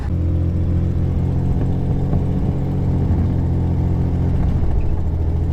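A Ford Bronco II's engine runs steadily during a road test, a loud low drone heard from inside the cabin with a slightly uneven, stumbly character.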